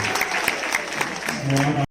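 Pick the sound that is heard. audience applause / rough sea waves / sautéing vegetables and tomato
audience applause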